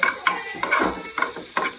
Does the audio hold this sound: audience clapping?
no